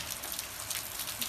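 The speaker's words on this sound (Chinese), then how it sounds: "狂风大雨" Heavy rain driven by strong wind outside, a dense broadband hiss of falling water and gusts, steady throughout this brief moment with no voices.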